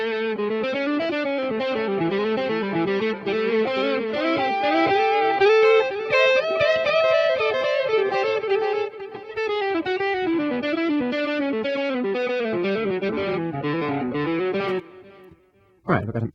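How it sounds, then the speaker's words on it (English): An electric guitar plays sustained, distorted phrases through a multi-effects unit with echo switched on, the repeats trailing each note loudly and continuously before a brief drop near the end. "You can add some echo."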